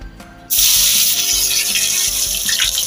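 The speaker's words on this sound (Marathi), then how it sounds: "आपलं तेल गरम झालंय. आता आपण लसूण टाकून घेऊया." Crushed garlic cloves hit hot oil in a kadhai and set off a sudden loud, steady sizzling hiss that continues to the end after a brief quieter start.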